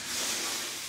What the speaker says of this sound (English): I'm going to start rub all the frames down